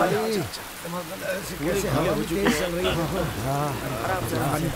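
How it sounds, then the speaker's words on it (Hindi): Heavy rain pours down as a steady broadband wash beneath several people talking closely and continuously over it. "कितनी तेज बारिश हो रही है।"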